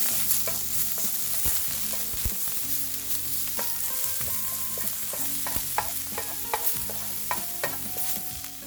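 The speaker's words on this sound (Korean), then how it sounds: "소금, 후추, 그리고 볶아줍니다." Blanched spinach stir-fried in a pan with salt and pepper, giving a steady sizzle broken by repeated scraping and clinking of a utensil against the pan, close and clear with no talk.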